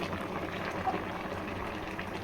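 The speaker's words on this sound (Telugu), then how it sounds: "అన్నం చూసారా కుక్ అవుతుంది" Rice cooking for chicken biryani in a pot, a soft steady bubbling and simmering at low level, with no voices.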